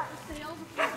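A dog at a birthday party gives a single short bark near the end, over quiet background talk from nearby people.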